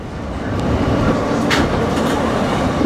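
Interior of an R160 New York City subway car on the Z line, a steady loud rumbling roar of the train running at speed with faint rail clicks and hiss, no voices.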